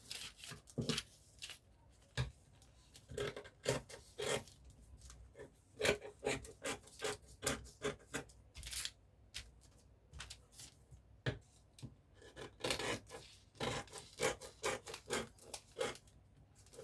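Scissors snip through fabric while pattern pieces for a one-shoulder bustier with puff sleeves are cut out, giving quiet, close, irregular bursts of cutting and rustling with short pauses between.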